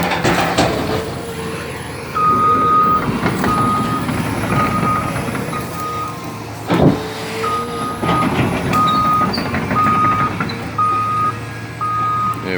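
Construction trucks working on a bridge through a wetland reverse with repeated high, evenly spaced beeps over a continuous diesel engine rumble and clanking, with a loud hiss of air brakes midway, heard from a nearby park trail.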